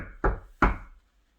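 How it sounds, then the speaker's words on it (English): Two firm, close knocks land on a door about 0.4 seconds apart, each a heavy hollow thud that rings briefly before fading into quiet. "why is he out there knocking the door?"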